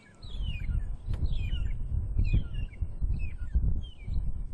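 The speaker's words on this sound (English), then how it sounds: "Like most bird calls, beautiful sound." A long-tailed shrike on a safari drive gives a series of short, rising whistled calls, about five evenly spaced phrases, clear and moderately near over a low rumbling engine.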